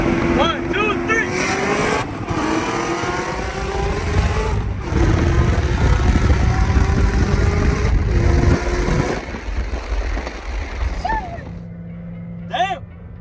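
A Chevrolet Corvette C7 Z06 and a ZR1 race side by side, their engines roaring loudly and building under acceleration, with wind buffeting and voices over the engine noise.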